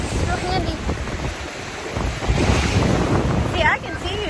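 Ocean waves wash along a beach coastline, a steady roaring surf mixed with heavy wind buffeting the microphone throughout.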